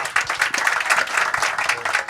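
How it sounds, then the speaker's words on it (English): Conference audience applauding a speaker, dense steady clapping from many hands throughout, close and fairly loud. "You're already clapping"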